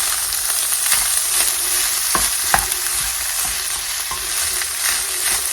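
Rice sizzles steadily in a hot frying pan with thyme, a constant crackling hiss broken by occasional scraping stirs and taps, close and fairly loud with no talking.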